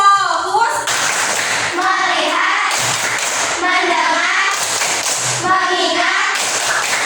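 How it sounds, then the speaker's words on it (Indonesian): Children clap in a counting routine, several short bursts of hand claps alternating with a teacher's voice calling out counts, close and fairly loud in a classroom. "Tepuk satu. Tepuk dua. Tepuk tiga. Tepuk empat."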